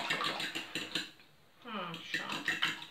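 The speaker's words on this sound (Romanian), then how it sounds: "Amestecăm." Omelette egg mixture with pepper is stirred in a bowl, a rapid run of light clinks and scrapes close by, pausing briefly as a voice speaks, then resuming.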